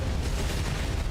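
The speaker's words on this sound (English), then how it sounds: "An explosion." Continuous loud, dense rumble of an explosion in the video game AI Limit, a steady roar with heavy low-end energy filling the whole moment, with no voices over it.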